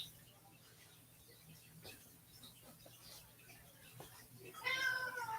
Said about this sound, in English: She's meowing.